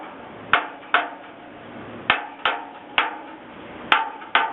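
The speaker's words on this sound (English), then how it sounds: "So as I do the hammer test, I'm first evaluating which ones I like, which ones I don't like" A hammer strikes the steel of a fire escape to test for rust, giving seven sharp metallic clanks at irregular intervals, each ringing briefly before it fades, with no voices.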